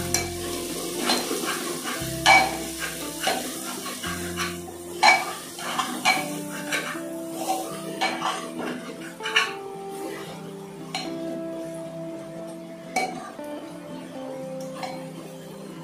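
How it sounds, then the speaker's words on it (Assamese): Repeated scraping and clinking of a spoon stirring turmeric and spices for mutton curry in a metal pressure cooker over a soft sizzle, with irregular sharp knocks throughout. "লৰাই দিম"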